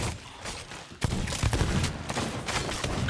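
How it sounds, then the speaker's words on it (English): A sudden burst of loud, crackling rumbles and rapid bangs, like distant explosions and gunfire, continuing densely for a few seconds, in the video game Sea of Thieves. "Why do I hear explosions?"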